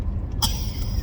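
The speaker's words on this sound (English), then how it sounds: "stop your coughing" A single short cough or throat-clear from a horse in a harness racing barn at Northfield Park, close and brief over a low ambient hum.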